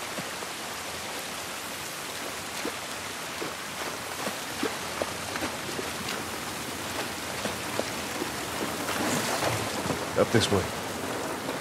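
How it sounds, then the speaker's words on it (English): Steady rainfall in The Last of Us Part I, a dense hiss of drops with scattered louder patters and a brief swell near the end, under a short spoken line. "This rain ain't gonna do us any good."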